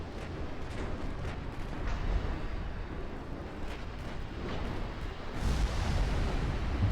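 Battleship main guns of a 20-inch Nelson fire shells in the naval game Ultimate Admiral Dreadnoughts, with a continuous heavy rumble of distant booms and a louder, deeper blast toward the end.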